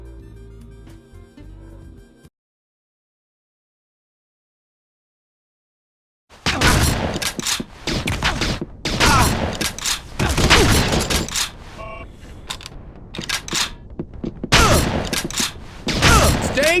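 Gunfire in the first-person shooter game Red Faction: after a short musical passage and a few seconds of silence, loud, dense bursts of shots and impacts erupt and continue almost without pause.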